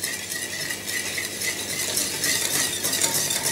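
Sugar being whisked into white chocolate brownie batter in a bowl, a steady bright scraping and rattling that runs continuously and grows slightly louder, with no talking.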